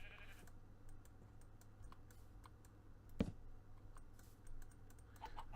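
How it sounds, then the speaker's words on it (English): Sheep bleat in a Minecraft modpack as a Draconic Staff of Power shears every sheep around, with a brief bleat near the end over steady keyboard typing and mouse clicking. "it sheared every sheep around"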